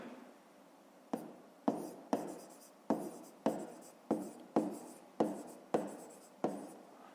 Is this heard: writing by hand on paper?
yes